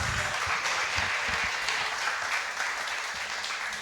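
A church congregation applauds during a Mother's Day sermon, a soft but steady wash of many hands clapping heard from a moderate distance, continuous throughout.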